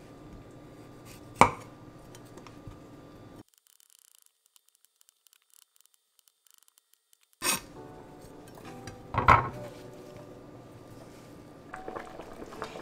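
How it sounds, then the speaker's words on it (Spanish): A kitchen knife knocks against a cutting board while slicing radishes, a few sparse, separate chops with a long silent pause between them, heard close and alone. "Ahora vamos a cortar los rábanos."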